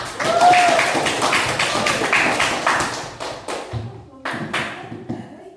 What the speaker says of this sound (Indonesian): kasih tepuk tangan untuk kelompok empat